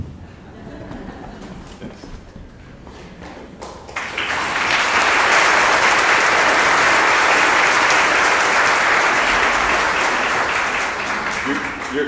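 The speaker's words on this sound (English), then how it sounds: "You're clapping" Church congregation breaking into applause at Mass, starting after a few seconds of quieter room sound with a voice, then a loud sustained wash of clapping that holds steady and eases slightly at the end.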